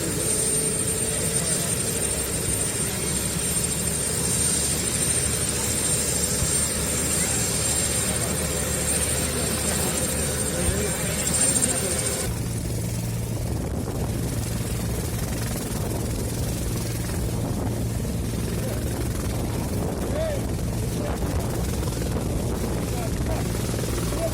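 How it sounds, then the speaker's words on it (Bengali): A helicopter lifts off and flies away at a political visit in Cooch Behar. Its loud rotor and turbine drone runs steadily throughout, its tone shifting partway through, with voices heard underneath. "দেখুন দেখুন দেখুন কীভাবে হেলিকপ্টারটি উড়ে যাচ্ছে"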